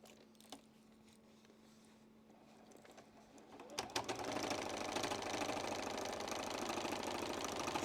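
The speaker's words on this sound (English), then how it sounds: "take it over to the machine. Put a little secure stitch in there." A sewing machine stitches quilt binding after a quiet pause with a few small clicks, settling into a steady, rapid, close-up mechanical whirring and clatter that runs on.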